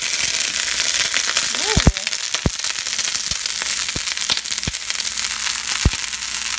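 Asparagus fries in a pan as a side dish, crackling and popping in sharp irregular bursts over a steady sizzle, close by, with a short exclaimed voice partway through.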